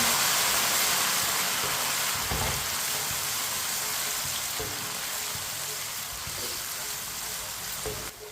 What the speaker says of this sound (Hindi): 1 मिनट के लिए पका लेंगे सब्ज लहसुन को भी।